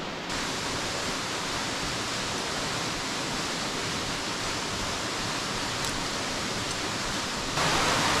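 Steady, dense roar of a waterfall in a mountain gorge, continuous and unbroken throughout, heard alone without voices.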